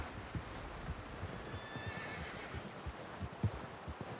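A horse in the video game Red Dead Redemption 2 whinnies amid hoof clip-clop and a rough ambient bed, the neigh rising mid-clip over the steady plodding hooves, with no talking.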